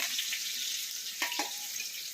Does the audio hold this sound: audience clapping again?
no